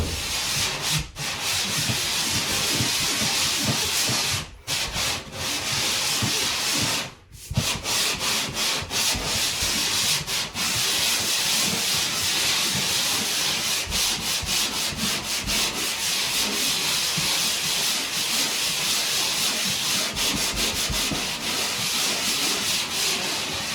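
Steady, continuous sanding of drywall joint compound in a mobile home, a coarse rasping rub that keeps going with only a few brief pauses, with no one speaking.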